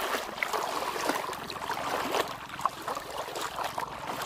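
Flood water pours across a road in a flooded Thai village, a continuous close rushing and gurgling with small splashes and trickles that hold steady throughout.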